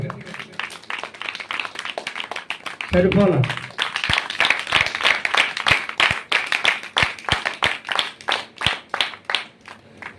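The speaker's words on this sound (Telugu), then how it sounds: "చప్పట్లు కొట్టండి గట్టిగా." A church congregation claps loudly and rhythmically in a run of sharp, evenly spaced hand claps, with a preacher's voice speaking over them.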